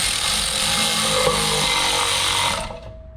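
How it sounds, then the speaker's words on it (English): A power tool, likely an impact driver or drill, whirs loud and continuous at an Acura MDX rear brake during rotor removal, then winds down and stops near the end. "just like that, the rotor can be removed"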